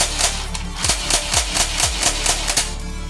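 Lehui M416 toy blaster firing full auto: a quick run of about ten sharp, evenly spaced clacks, each with a mechanical whir beneath it. The shots are close and loud, with no voices.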